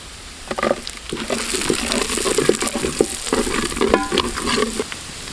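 Green chillies and beetroot fry in butter with steady sizzling and repeated spatula stirring clatter, close and fairly loud for the whole stretch with no talking.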